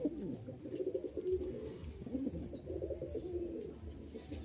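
Giribaz pigeons coo in soft, low repeated phrases, close and gentle, with faint bird chirps and light background noise.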